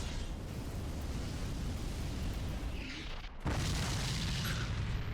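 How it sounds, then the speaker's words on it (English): A heavy bomb blast in Dark Souls 3, a deep booming burst rising over a constant rumbling roar, followed by a brief dip and a renewed loud rumble. "There we go, the bomb."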